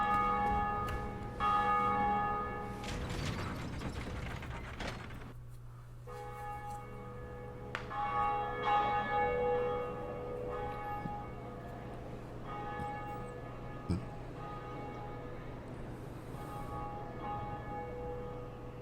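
A large bronze Bell of Awakening in Dark Souls tolls several times, each strike leaving a long, ringing, humming decay that fills the pauses between strikes, with no talk over it.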